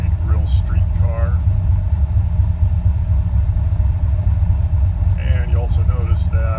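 A 600 hp engine with a hydraulic roller cam and Holley Sniper fuel injection idles after a cold start, a steady, loud low rumble, while someone talks over it.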